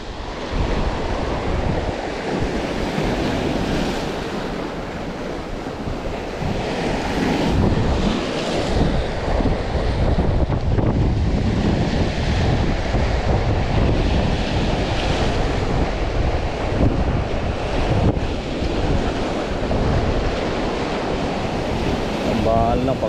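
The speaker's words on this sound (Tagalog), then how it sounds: "Malakas ang hangin." Steady strong wind rushes across the microphone with surf churning underneath, loud and unbroken for the whole stretch.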